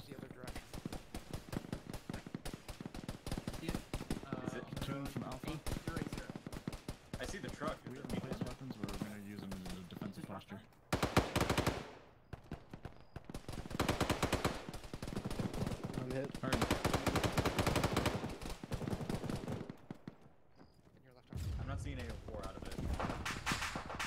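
Emplaced .50 calibre machine guns in a military video game hammer out long, dense bursts of heavy fire with brief pauses, loud and close, while players talk over radio.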